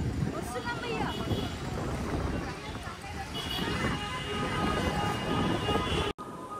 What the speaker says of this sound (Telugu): చూడండి ఎంత గాలి అయితే వేస్తుందో